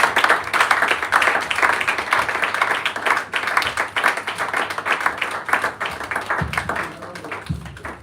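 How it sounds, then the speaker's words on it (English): Conference audience applauding steadily for about eight seconds, dense clapping that stays loud and even before thinning toward the end, with a couple of low thumps near the close. "A round of applause for Mr. Nimoy."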